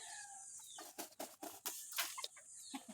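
A laying hen clucks and scratches close by, giving a string of short, soft clucks and muffled pecking taps in an otherwise quiet setting.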